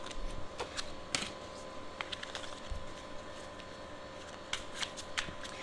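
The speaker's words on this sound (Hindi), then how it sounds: "जब मैं कार्ड्स को शफल कर रही हूँ" Tarot cards being shuffled by hand, rapid riffling flutters and soft card slaps in quick irregular bursts, close and quiet with no talking.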